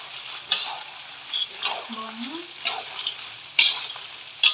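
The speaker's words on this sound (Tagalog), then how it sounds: "Saktong maluluto yung mani, luto na rin yung bawang." Peanuts and garlic fry for adobong mani, a faint sizzle broken by intermittent scraping and clicking stirs in the pan. A brief voice-like tone rises once in the middle.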